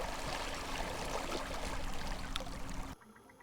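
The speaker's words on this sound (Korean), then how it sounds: "다이버가 몸을 가누기 힘들 정도로 강물이 바다 쪽으로 빠르게 흐르고 있다" Fast river current flowing seaward, recorded underwater at six metres depth in the Seomjin River estuary, a strong, steady broadband rushing wash that holds for about three seconds before cutting to a quieter hiss.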